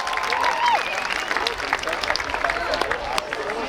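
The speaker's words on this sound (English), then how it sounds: "Please give them a big round of applause." Audience applause at a Yom Ha'azmaut ceremony, a steady patter of many hands clapping in a hall, moderately loud and sustained, with voices mixed in among the crowd.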